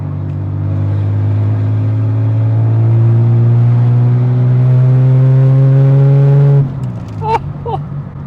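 A Ford Falcon with an aftermarket Redback exhaust revs steadily with a deep, throaty exhaust rumble, pitch slowly climbing, then drops off as the throttle is released.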